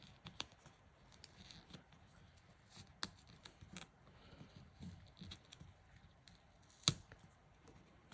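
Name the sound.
scissors cutting sticker paper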